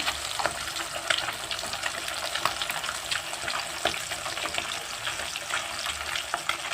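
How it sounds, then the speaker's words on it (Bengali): Pieces of rohu fish fry in hot oil in a pan, producing a steady, moderately loud crackling sizzle with scattered sharp pops and no talking. "তো দেখো মাছ ভাজছি।"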